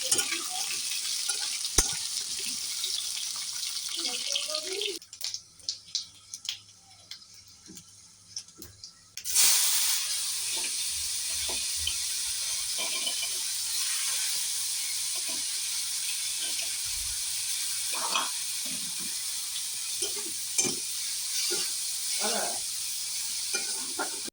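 Okra and vegetables fry in hot oil with a loud, continuous sizzle and scattered stirring clatter. The sizzle drops away briefly midway, then returns strong and close, and no one speaks.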